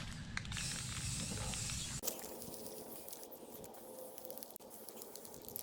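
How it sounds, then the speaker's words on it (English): Rusty Metal primer sprayed from an aerosol can onto a Class B van body, a steady close hiss that cuts off abruptly, then fainter hissing bursts with a short break partway. "I'm going to use this Rusty Metal primer"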